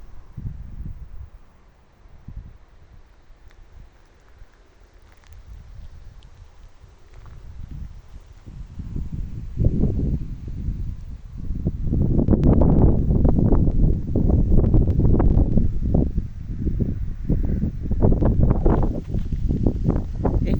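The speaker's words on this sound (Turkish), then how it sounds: "File file esiyor rüzgar." Wind gusting across an outdoor microphone near a vineyard, starting fairly soft and building into strong, rumbling buffets that rise and fall.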